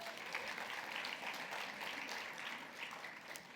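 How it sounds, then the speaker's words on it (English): An audience at a public conversation event with Boston's mayor claps together, a steady dense wash of applause holding for several seconds at moderate distance, with no voices. "I want to give you guys a round of applause."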